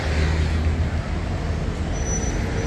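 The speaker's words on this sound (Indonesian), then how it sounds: "Ini bis-bis pariwisatanya guys," Buses and other vehicles idle and rumble along a busy street in Rome, a steady low engine drone with broadband traffic noise and a faint high hiss, no speech.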